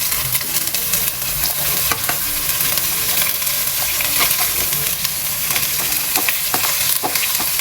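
Onions sautéing in a pan for a Kerala-style beef roast, a steady loud sizzle with frequent scraping stir strokes throughout, no talking.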